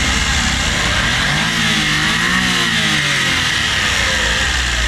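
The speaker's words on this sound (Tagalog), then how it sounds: "So K6A engine turbo, 12 valve, naka timing chain na siya" A K6A turbo 12-valve engine with timing chain in a Japanese mini van revs up and falls back once over a steady loud idle, close to the microphone, with no talk.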